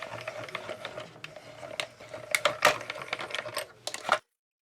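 A card being cranked through a manual die-cutting machine gives a series of close, irregular clicks and metallic ratcheting clatters that build to a louder flurry before stopping abruptly.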